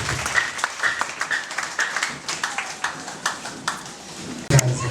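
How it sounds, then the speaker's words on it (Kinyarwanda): A church congregation at a prayer service claps in scattered, uneven bursts, individual hand claps standing out over a soft room background, with a sharp louder hit near the end. "Komera amashyi"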